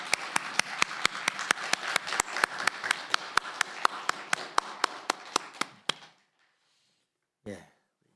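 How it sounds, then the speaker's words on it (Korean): A church congregation applauds during a Sunday worship service, with one close, sharp clapper keeping a steady beat over a softer wash of crowd clapping. The applause stops abruptly, then a brief faint sound follows after the silence. "다시 한번 박수로 영광 돌립니다."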